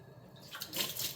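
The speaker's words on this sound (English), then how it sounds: "They get a nice good rinse. And then I also like to rinse out the bottom." Water splashing as sprouting seeds are rinsed in a jar, a faint trickle that swells into a brief, louder gush near the end.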